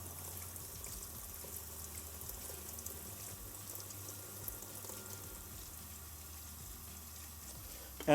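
Water is poured out of a film developing tank after a rinse, a faint steady trickle and splash against quiet room noise, ending with a sudden clunk.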